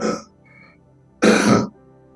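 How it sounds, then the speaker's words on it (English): A short throat clear, then a pause and a louder, harsher cough-like clearing of the throat, close to the microphone with no talking. "Forgive me with the cough"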